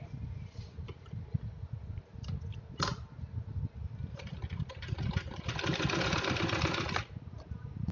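A sewing machine stitches a finishing seam on a cotton bed sheet in steady mechanical runs with short pauses, close and fairly loud, swelling into a longer continuous burst near the end, with no talking.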